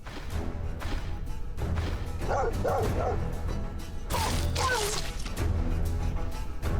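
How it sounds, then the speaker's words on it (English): Dogs bark in the fantasy RPG Stoneshard, several sharp yelping barks in quick bursts over a low game ambience and combat thuds, with a few clustered calls in the middle and again later. "Here comes the dogs."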